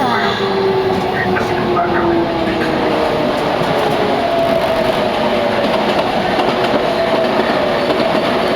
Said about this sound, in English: I do love the sound of the Jubilee line.